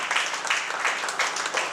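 A church congregation applauds in praise, a dense, continuous wash of many hands clapping together that fills the room with no clear pauses.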